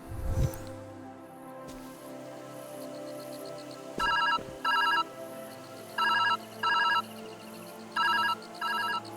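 A phone booth telephone in the video game Viewfinder rings in repeated electronic bursts, about two rings per second-long group, in a regular pattern, loud and clear with no talking.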